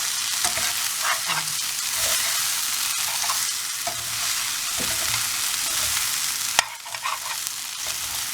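Okra stir-fries in a pan with a steady close sizzle, broken by frequent scraping and stirring strokes and one sharp clink near the end.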